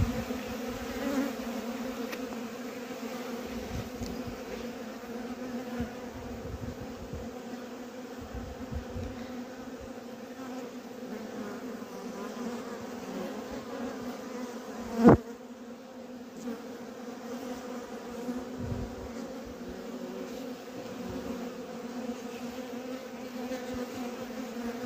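Honeybees buzzing around a beekeepers' apiary in Antalya in spring, a continuous droning hum from many bees nearby, steady throughout with one sharp knock partway through.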